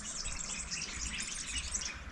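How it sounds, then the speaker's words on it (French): Birds chirp by the Ziz river in Morocco, a dense layer of many high tweets and calls continuing throughout, moderately loud outdoor chorus with no talking. "Écoute les oiseaux."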